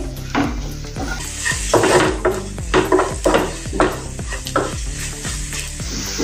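Spices stirred into a ridge gourd and potato curry in a frying pan, a spoon scraping and knocking the pan in a steady rhythm over a constant sizzle, close and fairly loud, no speech.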